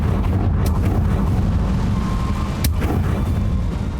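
Booming blast of the Confringo spell in Hogwarts Legacy, a heavy low rumble with sharp cracks near the start and middle, loud and sustained without talk.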